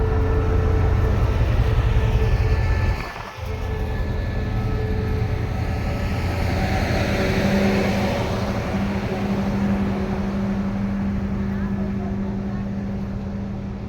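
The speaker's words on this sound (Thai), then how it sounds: "ขบวนรถพิเศษนำเที่ยวรอยัลบัสซัม 983 กรุงเทพหัวลำโพงปลายทางสถานีหัวหินนะครับ ทำขบวนโดยรถจักร QSY หมายเลข 5232" Steady, loud rumble of a special Royal Blossom excursion train, number 983 from Bangkok Hua Lamphong to Hua Hin, hauled by QSY locomotive 5232. A low engine drone holds throughout, with a brief dip near the start.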